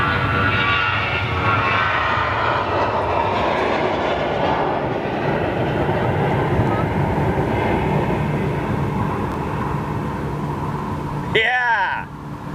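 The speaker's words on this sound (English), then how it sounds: "She's burning those engines when she went past, isn't she?" Boeing 737 jet engines roar loud and steady during takeoff at Schiphol airport, a broad continuous rumble for most of the stretch before dropping away near the end, with people talking over it.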